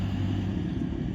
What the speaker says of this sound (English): a tractor going by.